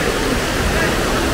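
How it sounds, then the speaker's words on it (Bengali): A waterfall in Sri Lanka drops from high up a hill, making a loud, steady, close roar of rushing water with no breaks. "ঝর্ণাটা একদম উপর থেকে আসছে"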